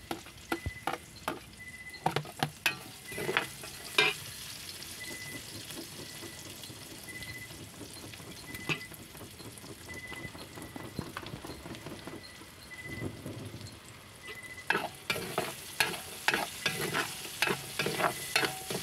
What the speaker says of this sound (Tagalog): Ato nang ilunod ang kuan, bawang, sibuyas.